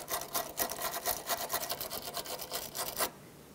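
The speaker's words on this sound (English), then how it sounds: "Take a wire brush, just brush this off." A wire brush scrubs a bolt in quick, steady back-and-forth strokes for about three seconds, close and fairly faint, then stops abruptly.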